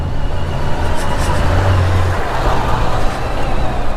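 A vehicle rumbles over rough, unpaved lanes inside the Jaisalmer fort, its rear tire slipping through sliding turns; a steady low engine and road drone holds close and even throughout, with no talking.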